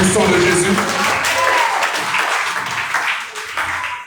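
A church congregation applauds and cheers loudly, a dense wash of clapping and raised voices that stays strong before tapering slightly toward the end.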